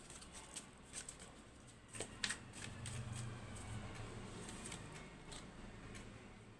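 Tarot cards being shuffled: soft, faint papery riffling and patter with a few sharper card snaps, close but quiet over a low background hum.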